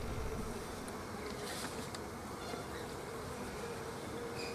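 Honey bees hum steadily around an opened hive full of brood during a beekeeping inspection, a dense close buzz with individual bees droning past.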